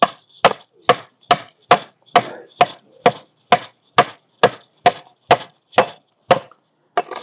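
Split wood being chopped with an axe to make saddle bars: about fifteen sharp, evenly spaced chops in a steady rhythm, close and loud, with no talking.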